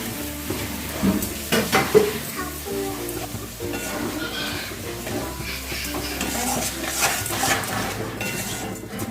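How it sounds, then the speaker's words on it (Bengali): Rice being stirred with spices in a pan while cooking muri ghonto, a Bengali fish-head rice dish: a steady, close run of spatula scrapes and clinks against the metal pan over a faint sizzle. "দু তিন মিনিটের মতন আমি চালগুলো নাড়াচাড়া করব মশলার সাথে"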